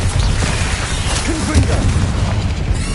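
Spell explosion from a Bombarda cast in Hogwarts Legacy, a loud booming blast with crackling debris over dense battle noise, with a voice briefly audible beneath.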